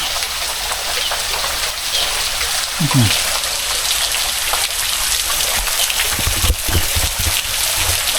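Water pours steadily at the Khao Chomphu waterfall in Thailand, a loud, continuous broadband rush like heavy rain that never lets up, with a couple of brief voices low beneath it.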